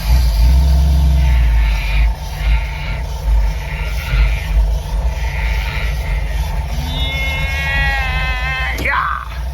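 A 1973 Dodge B100 van's engine runs with a loud, close, rough low rumble and uneven surges. A rising squeal and a clunk come near the end.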